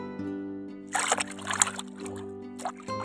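Spinach is washed by hand in water for a village-style dish, giving a few short splashes and trickles at close range over a steady low hum.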